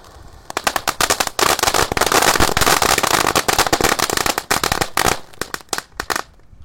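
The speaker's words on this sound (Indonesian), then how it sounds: "Ini sama Conic Fountain. Kita lihat reaksinya spesial malam Ramadan hari ke-9" A Conic Fountain firework set off on a Ramadan night, bursting into a loud, dense barrage of rapid crackling pops that runs for several seconds, then thins into scattered bangs and stops.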